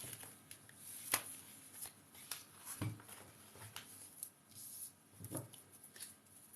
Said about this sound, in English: Let's shuffle these cards and see where we go.